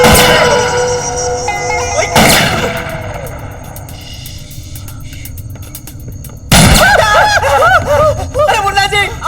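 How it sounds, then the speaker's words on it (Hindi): Gunshots in a Hindi comedy film scene: two sharp, loud blasts ring out several seconds apart amid excited dialogue and chuckling. "आप हम पे क्यों गोली चला रहे हैं?"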